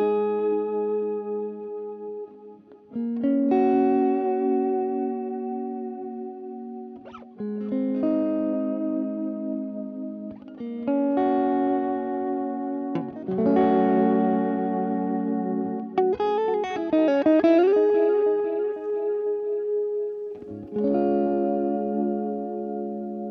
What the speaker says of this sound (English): Also here you have some nice modulation.